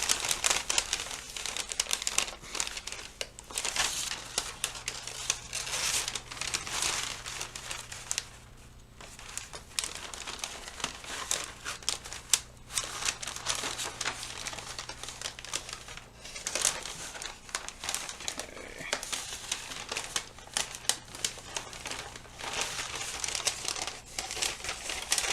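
A paper sewing pattern for a halter is folded back along the side seam, giving close, continuous crinkling and rustling with short pauses as the sheet is handled.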